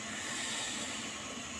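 Rice cooked in a plastic container is still boiling, a faint, continuous broadband hiss like escaping steam with no distinct bubbling or talk.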